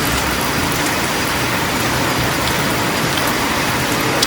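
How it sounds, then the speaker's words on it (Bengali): Heavy rain pours down steadily on a morning, a dense continuous hiss of drops hitting surfaces, with faint road traffic mixed in underneath and no voices. "তো গাইজ সকাল থেকেই শুরু হয়ে গেছে ঝমঝমিয়ে বৃষ্টি।"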